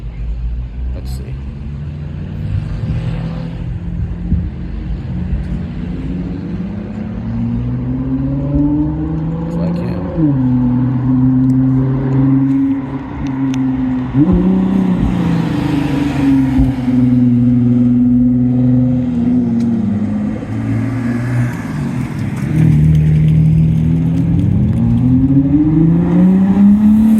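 A Ford GT race car runs at Summit Point Raceway during a Mille Miglia warmup, its engine droning loudly for a long stretch with pitch climbing and falling through gear changes as it drives past.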